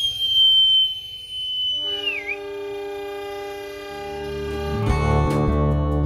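KA Kahuripan economy-class train on the Yogyakarta–Bandung line, heard from close by as a long horn or whistle tone sounds and the engine's deep rumble builds and grows loud toward the end.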